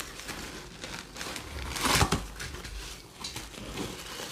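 Plastic or paper wrapping crinkles and crumples close up as a Mancera Cedrat Boise Intense perfume package is unwrapped, a soft continuous rustle with one louder tearing crunch midway.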